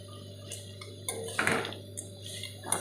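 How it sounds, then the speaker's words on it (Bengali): Raw crabs tipped into a pan of spiced masala land with one short clattering, sizzling burst, then a low steady kitchen hum and faint clinks follow. "এইবার এটার মধ্যে কাঁকড়াগুলো অ্যাড করলাম।"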